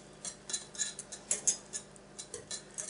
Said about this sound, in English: go ahead and add your freshly chopped basil into the sauce. And go ahead and mix that around.